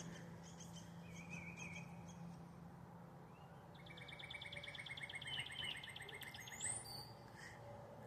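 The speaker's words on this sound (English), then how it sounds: "we're just going to listen to birds and walk over the pond" Small birds chirp and twitter near a feeder and pond outdoors, faint and scattered short calls over a low steady background hum.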